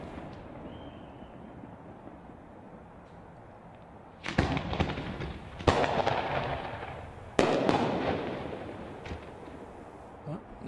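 Fireworks exploding at a graduation fireworks show in Madera; after a low rumbling wait, three loud booming bursts arrive a second or two apart, each trailing off in crackle and echo, heard from a distance.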